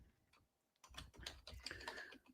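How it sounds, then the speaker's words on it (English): Rapid clicking keystrokes on a computer keyboard, a close, busy run of taps starting partway through after a quiet stretch, with no talk over it. "let me finish some typing here"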